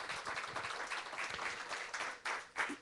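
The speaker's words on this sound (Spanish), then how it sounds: "Denle un aplauso al Señor." A church congregation applauds together at a worship service, a steady, fairly loud wash of many hands clapping that runs throughout, with a few sharper bursts near the end.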